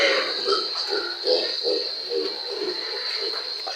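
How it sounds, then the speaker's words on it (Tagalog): Native pigs on a farm feed greedily, with repeated wet chomping and short grunts in an uneven rhythm, close by, over a steady high-pitched hum in the background. "Kita nyo yung baboy na maganang kumain yung kung kumain siya pasagpang."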